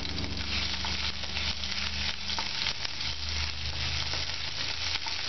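Ginger-garlic paste frying with cumin seeds in hot oil, a steady close sizzle and crackle with faint stirring, no talk.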